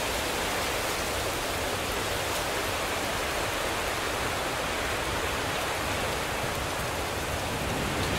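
Heavy rain pours steadily during a thunderstorm, a dense, loud, unbroken hiss of falling water with no thunder claps or talking.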